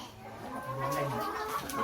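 Chickens clucking on a farm while being fed food scraps and broken eggs, a close, fairly quiet run of soft clucks and murmuring calls, with no speech.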